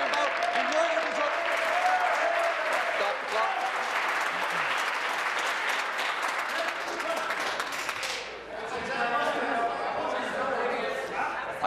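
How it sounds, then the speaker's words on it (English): A large crowd applauds loudly and continuously in a parliament chamber as members stand, with voices and chatter mixed in, briefly dipping before swelling again. "once they stood up and started clapping loudly"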